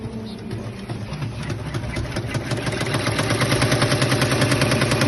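An industrial sewing machine stitches in a fast, steady mechanical rattle that grows slightly louder and more regular toward the end, close by, with no talking.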